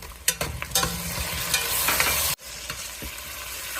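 Tomatoes hit a pan of softened onions, ginger-garlic paste and curry leaves, giving a loud, close sizzle with stirring scrapes, a brief cut, then continued frying.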